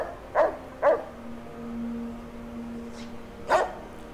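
A dog barks in the Fallout: Tale of Two Wastelands wasteland, three sharp single barks spaced apart, the first two close together and a last one after a pause, fairly near and clear over a quiet hum.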